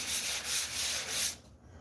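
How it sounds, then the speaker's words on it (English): A sanding block scrapes across drywall in four or five quick rhythmic back-and-forth strokes while spot sanding the edges and a corner, then stops abruptly. "So I'm spot sanding all the high and low areas around the edges, shaping the corner real quick."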